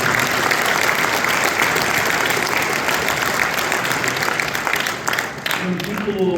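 Crowd at an evening event with UFC lightweight champion Khabib Nurmagomedov in Chicago gives loud, sustained applause, dense and steady for several seconds before thinning slightly near the end, with some voices mixed in.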